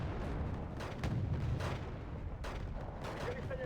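Artillery fire in a video game, a continuous low rumble of distant booms and blasts under faint talk.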